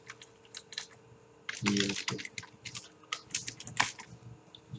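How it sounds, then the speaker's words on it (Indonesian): Fast typing on a computer keyboard entering a YouTube search, clustered key clicks in bursts of varying loudness, close and clear, with no talking. "Pertama kita ketik YouTube."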